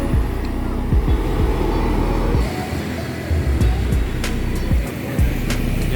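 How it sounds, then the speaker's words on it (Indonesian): A school bus passes on a coastal road near Kupang, with low engine rumble and a rush of traffic moving by close at hand. A few sharp knocks and rattles break through the steady road noise. "Bus sekolah."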